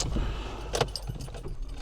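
A parked car's engine idles as it warms up, a steady low rumble under a brief jangle of keys and some handling clatter close by.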